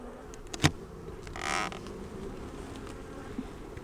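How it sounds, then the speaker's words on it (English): Honey bees buzz faintly around a nuc hive, with one bee droning past up close in a brief swell, plus a sharp knock earlier, all outdoors. "I just seen some bees fly in there."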